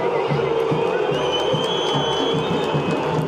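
A stadium crowd at a Brazilian football match gives off a loud, dense roar of many voices. It sounds like sustained jeering from the stands, heard close and continuous with no break.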